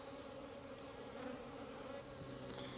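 Steady, dense buzzing of many honeybees swarming close by, continuous and even with no pauses.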